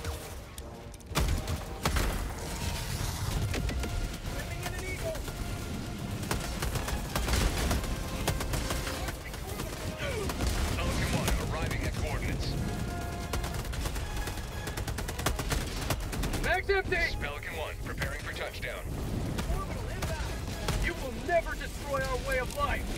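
Dense, continuous gunfire and explosions from the Helldivers 2 video game, with rapid automatic bursts and heavy blasts layered into a loud, unbroken battle din throughout.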